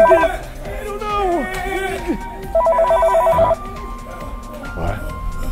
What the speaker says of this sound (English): Should I get the phone?